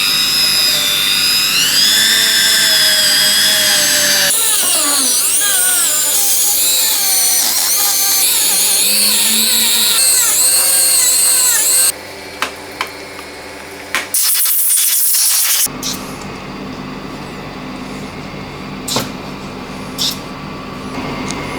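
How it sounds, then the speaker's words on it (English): A power tool whines and shifts pitch while cleaning surface rust off the pulleys of a Ducati 998 engine, loud and close, with changes in tone and short pauses as it works across the metal. "Now we're just going to clean up some of the surface rust on the pulleys"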